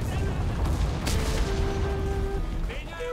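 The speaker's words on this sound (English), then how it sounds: "Oh, that's a grenade!" Grenade explosion in the shooter game Enlisted, a sharp blast with a low rumble amid ongoing battle noise, with a whistling tone and other gunfire around it, fairly loud and close.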